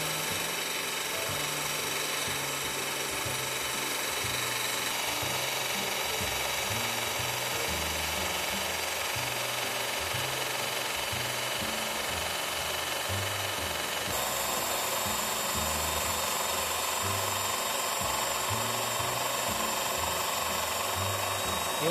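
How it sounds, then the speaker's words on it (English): A power saw with a blade cuts straight through porcelain tile in a steady, continuous whine and grind that holds loud and even throughout, with slight shifts in pitch as the cut progresses. "You're gonna let the blade do the cutting."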